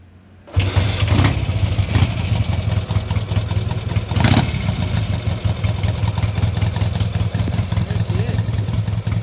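A 1963 Gilera B 300 Extra motorcycle is kick-started after near silence and catches at once, settling into a loud, close, steady idle with a brief blip of throttle midway.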